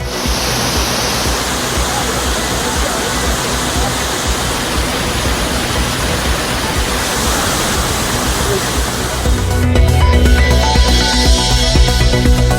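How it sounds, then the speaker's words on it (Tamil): Sudden flash flood at Aliyar Monkey Falls waterfall: a loud, steady roar of rushing floodwater fills the scene, turning heavier and rumbling deeper toward the end. "ஆழியார் குரங்கு அருவியில் திடீர் வெள்ளப்பெருக்கு."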